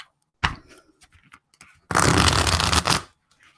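A deck of tarot cards is riffle shuffled up close: a short ruffle, a few light taps, then a loud dense burst of cascading cards lasting about a second, with no talking over it.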